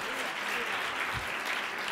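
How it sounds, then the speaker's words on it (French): Brief steady applause from an audience fills the room, a continuous wash of clapping with faint voices underneath. "on va l'applaudir à madame"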